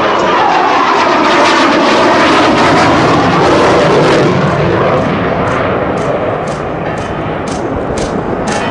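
Australian F-111 swing-wing jet at the Avalon airshow, its engine roaring loud and steady overhead with a sweeping pitch shift as it passes, then settling into a sustained rumble.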